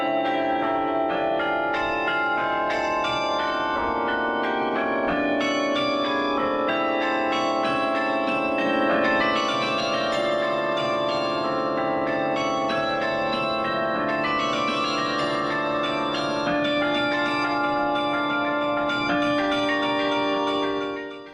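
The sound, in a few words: carillon bells ringing in a tower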